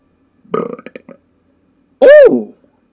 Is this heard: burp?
yes